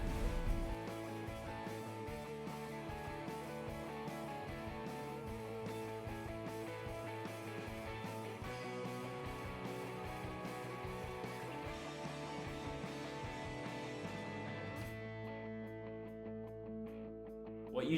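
A band's new single, a track with drums recorded in a home studio, playing steadily and quite faintly before the instruments thin out near the end.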